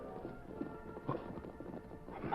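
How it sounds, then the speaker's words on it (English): Hoofbeats of approaching horses in a Western radio drama, a soft, quick clip-clop rhythm of several horses at a moderate distance, heard without talk. "When he heard the hoofbeats of approaching horses, he leaped to the dust-filmed windows."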